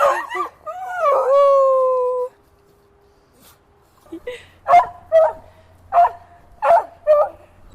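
A puppy gives a drawn-out whining howl, then after a short pause lets out a series of about six sharp yaps at an even pace, close and fairly loud.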